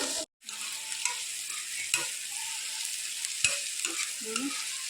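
Vegetables for Hakka noodles roast in a pan over a low flame with a steady, hissing sizzle, broken by occasional soft stirring scrapes and one brief dropout near the start.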